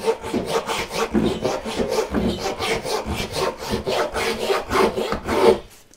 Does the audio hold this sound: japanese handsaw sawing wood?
yes